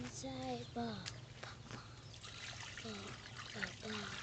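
Water trickles and splashes while salted, boiled frog eggs are rinsed for a Thai frog soup, a steady close wet running sound with voices talking over it throughout.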